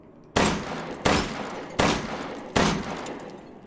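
Four loud gunshots from a firearm fired one-handed in Resident Evil Village, evenly spaced about three-quarters of a second apart, each a sharp crack with a short decaying tail.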